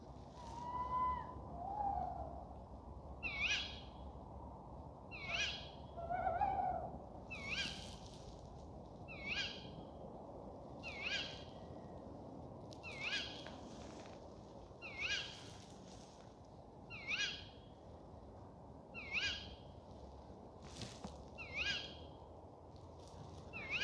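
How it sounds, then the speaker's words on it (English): Owls call in woodland at night, faint and distant, repeating short cries about every two seconds over quiet background hiss. "I have been joined by owls. Somewhere up there."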